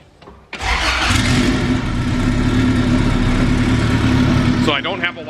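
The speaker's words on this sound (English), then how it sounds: "Let's fire it up." A turbocharged B18 Honda Civic engine cranks briefly, catches with a loud burst, then settles into a steady, slightly lumpy idle close by before cutting off.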